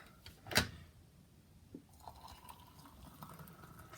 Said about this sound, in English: fill that up with some nice boiling water from my kettle